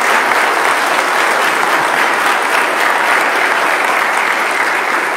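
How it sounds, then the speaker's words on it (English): A church congregation applauds couples at a Sunday parish Mass, dense and loud clapping sustained evenly for five seconds with no talk over it. "So let us give them big applause and now."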